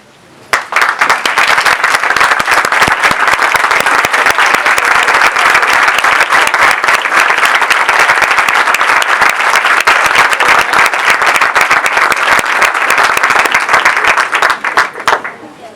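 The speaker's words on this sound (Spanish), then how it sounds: "quiero que los reciban de pie y con un fuerte aplauso a Steve" An audience in Buenos Aires rises and applauds as speaker Steve Weber enters, loud sustained clapping from a large crowd that swells quickly and holds steady before tapering off.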